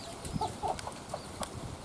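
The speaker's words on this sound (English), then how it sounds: "Got a few baby chickens there." Soft, high peeps and chirps from small chicks, a few scattered calls over a faint background murmur.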